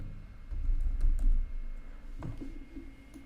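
A computer keyboard clicks as the word pension is typed, a short close burst of keystrokes followed by a few more scattered clicks over a faint background hum.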